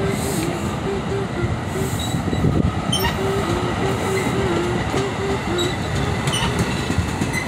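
A New Jersey Transit train pulls out of Ballenbrook with a loud, continuous rumble of wheels and cars, threaded with thin metallic wheel squeals and faint clickety-clack.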